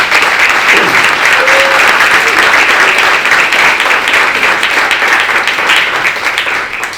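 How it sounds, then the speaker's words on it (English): Loud, dense audience applause fills a Black History Month event hall, a continuous roar of many hands sustained throughout and tapering slightly at the end. "Give her a round of applause."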